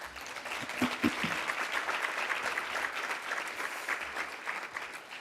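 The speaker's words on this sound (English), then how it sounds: "Please give her a round of applause." An audience applauds to welcome author Victoria Christopher Murray at a book talk on Harlem Rhapsody, a steady, moderately loud patter of many clapping hands that holds evenly throughout.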